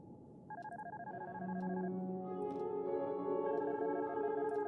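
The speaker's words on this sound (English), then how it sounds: "Incoming call, Arthur." In the horror video game Darkness Within, a cell phone rings for an incoming call with a repeating pattern of bright electronic tones that switch between pitches. It plays alone and fairly quietly.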